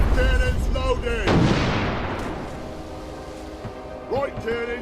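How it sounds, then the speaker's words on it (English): Ship cannons fire in the naval video game Furious Seas, a loud booming blast followed by a decaying rumble, with a voice talking over the start and again near the end. "Left cannons loaded."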